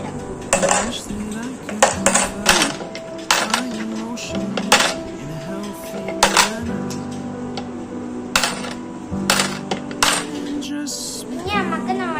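Coins dropped one after another into a new piggy bank, sharp metallic clinks at an irregular pace that land loudly and close, with voices talking between the drops.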